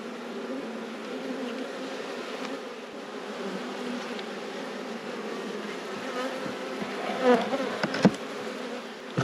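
Honey bees swarming around an open beehive during an inspection, a dense steady buzzing drone close by, with a few sharper knocks and rustles near the end and no talking.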